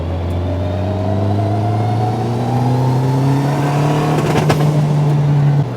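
An AWD Honda Civic Type R with an ignition issue idles and slowly builds revs. The engine drones steadily with a rising pitch and some uneven roughness, close and loud, with no talking.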